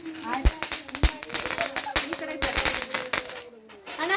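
Diwali firecrackers go off in a rapid scatter of sharp, close bangs and crackles while people talk nearby.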